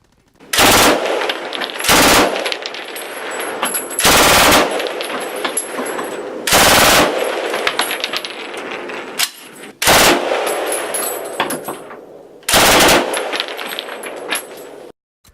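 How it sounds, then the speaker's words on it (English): A real MG42 machine gun fires in several long, very rapid bursts, each a loud buzzing roar of shots with ringing echoes and tinkling spent casings in the short gaps between bursts. "now the soundbite of the real MG42 fire rate."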